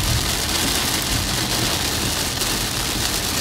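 Heavy rain pours steadily during a typhoon on Phu Quoc island, a dense, even hiss of rain striking surfaces with no pauses.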